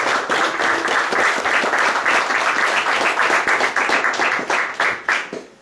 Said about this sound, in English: give yourselves a round of applause for being here and kicking this off